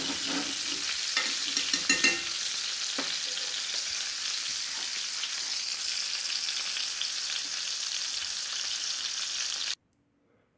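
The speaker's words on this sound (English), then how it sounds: "I'm going to go ahead and add in about a minced clove of garlic" Minced garlic sizzles and crackles in a cast-iron skillet, a steady close frying hiss with a few stirring clicks before cutting off abruptly.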